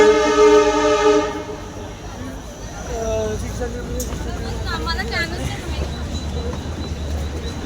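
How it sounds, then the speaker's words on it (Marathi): An air-conditioned suburban local train on the Thane line pulls into a station platform. A loud horn blast opens, then the carriages rumble and clatter nearby while the crowd on the platform murmurs in the background. "आताच गेली किंवा ट्रेन आली. ट्रेन आली AC वाली."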